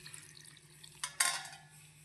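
A little water is poured and dribbled into a mackerel masala mixture before grinding; faint drips lead into a short, brighter splash and trickle near the end, with no talking.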